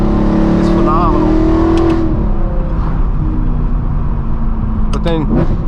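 Straight-piped, Gintani-tuned BMW M3 E92 V8 revving loudly, the engine note swelling then dropping away as it downshifts, with sharp pops and crackles near the end; continuous and close.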